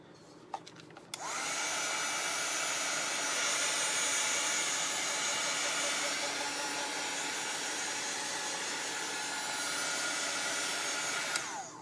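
After a brief rustle, a hair dryer switches on and blows in a steady, loud whoosh for about ten seconds while drying a chalk transfer craft piece, then cuts off near the end.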